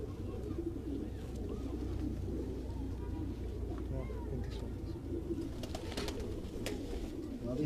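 White Meerut pigeons cooing in a dense low murmur, several birds close by, with someone talking over them and occasional sharper clicks and chirps.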